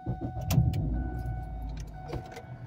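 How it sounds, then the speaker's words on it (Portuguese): A Ford Fusion with its air filter removed starts up close by. A brief key jingle gives way to a low, steady engine rumble, with a few light clicks and rattles. "Vou dar partida no carro sem filtro de ar."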